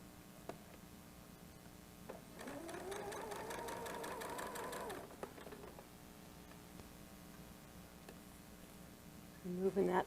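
A sewing machine stitches a fabric water bottle cozy in one steady, fairly quiet run of a few seconds, humming at a fast mechanical rate before stopping, with soft handling noises after.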